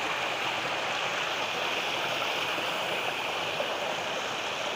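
Steady rushing water of a flowing river fills the clip, a constant broadband hiss without pauses or voices.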